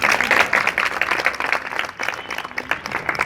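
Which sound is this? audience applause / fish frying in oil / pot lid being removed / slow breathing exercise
audience applause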